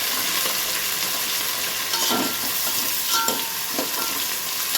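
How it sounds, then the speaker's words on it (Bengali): Onion, peas, carrot and beans frying in ghee while being stirred, giving a steady loud sizzle with intermittent scraping strokes of a utensil in the pan, close up and free of speech. "আমি এগুলোকে একটু ভালো করে নাড়াচাড়া করে নেবো ঘিয়ের সাথে"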